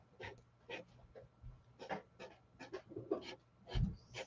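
A pet dog pants nearby in quick, rhythmic breathy puffs, quiet and close, with a faint low hum underneath.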